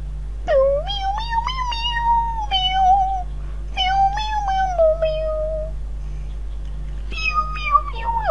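A person imitates a cat, drawing out a long series of nasal, rising and falling meows up close over a low steady hum, with short pauses between groups of calls.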